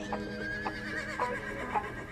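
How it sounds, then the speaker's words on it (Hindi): Horses whinnying in several short, shrill neighs spaced about half a second apart, moderately distant, with faint hoof clatter and a murmur of voices underneath. "सिकंदर ने पोरस के पीछे घोड़े दौड़ाए।"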